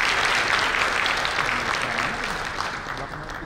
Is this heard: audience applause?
yes